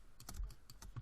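Computer keyboard keys are pressed in a quick run of about six light, crisp clicks, close and clear with no talk.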